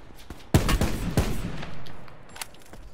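Gunfire in a duo battle-royale shooter game: a few sharp loud shots in quick succession, then a scattered distant crack, with no talk over them.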